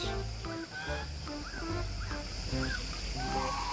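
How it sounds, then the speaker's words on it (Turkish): Several ducks at a zoo quack in short honking calls, spaced irregularly over a steady outdoor wash of water or wind, moderately close. "Jüpiter, ördekler nasıl ses çıkartıyordu?"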